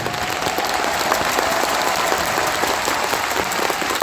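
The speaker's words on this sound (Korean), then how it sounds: "박수가 너무 많아서" A talk-concert audience applauds in a hall. The sustained, dense clapping stays at an even loudness for the whole stretch.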